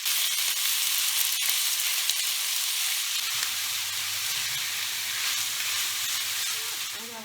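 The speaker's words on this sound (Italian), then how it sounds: "L'aglio sta sfrigolando e quindi vado ad aggiungere la salsiccia che ho spellato e fatto a pezzetti a mano." Garlic and hand-peeled, hand-cut sausage pieces sizzle steadily in a frying pan, a close, continuous hiss that holds even throughout, with a low hum joining partway through.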